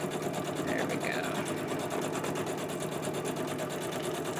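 A sewing machine stitches thread through paper scraps in a steady rapid mechanical whir, close and continuous, with a person talking over it.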